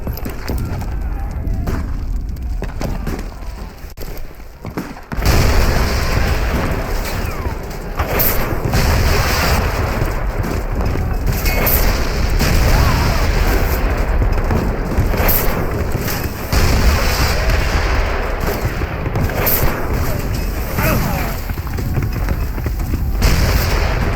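Cannon fire and explosions in the Call of Juarez: Bound in Blood game. Heavy booms and crackling blasts come repeatedly over a rumbling battle din, quieter for the first few seconds and then loud and continuous.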